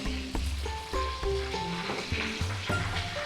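Fish frying in oil in a pan until golden, a close, steady crackling sizzle punctuated by intermittent utensil knocks and scrapes, with no one speaking.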